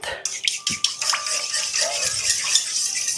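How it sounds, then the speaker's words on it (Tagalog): Pork chop marinade with oil being stirred in a bowl, giving soft clinks and scraping swishes through a steady wet hiss, fairly close, with a few sharper taps near the start. "Tapos, haluin nyo ulit."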